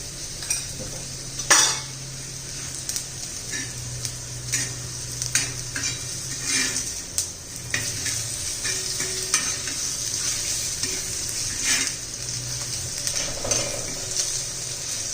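Cumin seeds sizzle in a hot pan with cluster beans while a utensil stirs and scrapes, a steady frying hiss broken by clinks and scraping strokes, close and moderately loud, with no talking.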